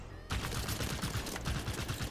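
Firing from a Banished vehicle gun in Halo 5 begins abruptly after a brief quiet moment, a steady rapid stream of loud shots continuing to the end with no talking.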